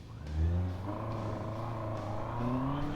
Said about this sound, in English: I'm not sure if you could hear the revs pick up, like it was slipping the clutch